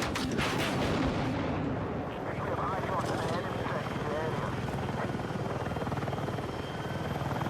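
Battlefield 6 helicopter's steady, loud rotor and engine drone with bursts of gunfire and explosions around it, someone talking over the din throughout.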